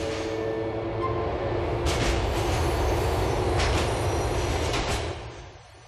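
Subway train in GTA IV's Liberty City running on rails, a steady rumbling roll with rhythmic clacks and hissing bursts, low drone underneath, fading out near the end.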